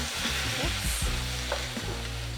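Cabbage stir-fries in a hot wok with salt, giving a loud, close sizzle broken by scraping stirs and tosses, with no talking.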